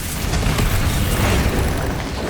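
Confringo blasting spells exploding during combat in the Hogwarts Legacy video game, a dense, loud continuous rumble of booming blasts filling the whole stretch with no pauses.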